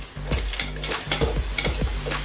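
A spoon stirring a simmering pot of silver jewelry cleaning solution on a stove, close and continuous, with repeated scraping strokes against the pot over a low bubbling hiss.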